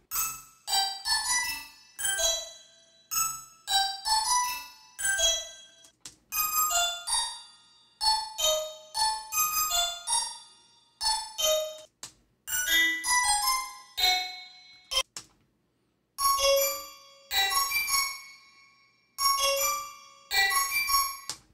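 Bell tones from a MIDI generator in Ableton Live ring out in a repeating, rhythmic pattern of bright struck notes with decaying tails. Short gaps break up the sequence, and no voice is present.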